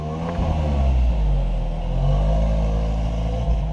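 A Lotus Elise sports car engine revs loudly and close by, a steady throaty roar that swells slightly and holds for several seconds with no talk over it.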